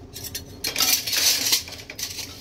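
Steel dishes and utensils being stacked and put away at home, with close clattering clinks and rattles in quick bursts, no voices.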